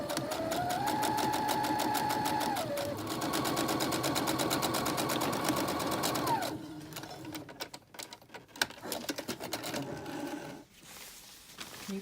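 A sewing machine stitching a sleeve, a fast steady mechanical whir with a rising pitch for about six seconds, then uneven clicks and handling knocks as the machine stops.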